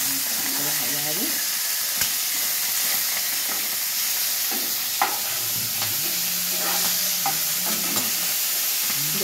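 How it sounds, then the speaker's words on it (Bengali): Pieces of hilsa fish frying in an oil-filled pan give a continuous sizzling hiss, with occasional utensil clicks and brief soft voices in the background. "মাছগুলো ভাজা হয়ে গেল"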